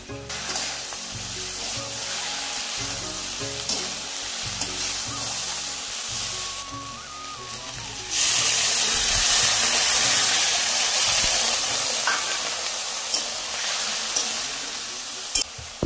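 Fried potatoes with mustard, cumin and poppy paste are stirred in a hot pan, giving a loud continuous sizzle with rhythmic scraping, then a sudden surge of hissing steam partway through.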